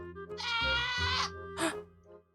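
A screaming baby goat in Minecraft gives a loud, drawn-out bleating scream, then a second shorter cry, with no talking over it.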